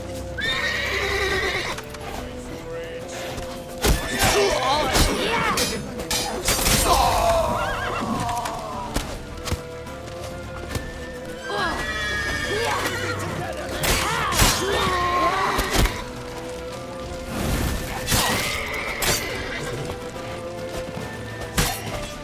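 A horse in The Witcher 3 video game whinnies repeatedly over clattering hooves, set amid a loud, busy in-game action scene with shouting voices and crashing effects throughout.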